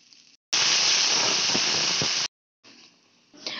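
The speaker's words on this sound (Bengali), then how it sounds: "ডালটা যাতে ভালো মতো সেদ্ধ হয়ে যায় সেই অনুযায়ী জলটা দেওয়া হলো" Water poured into lentils frying in a hot pan for a Bengali dal with Malabar spinach gives a sudden, loud, steady hiss lasting almost two seconds, then breaks off. Quieter kitchen noise comes before and after.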